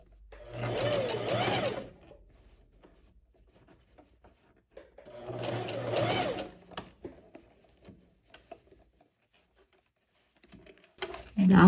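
A sewing machine stitches a seam through the lining of a tailored vest in two bursts of fast, close mechanical chatter separated by quiet handling, with a voice speaking near the end.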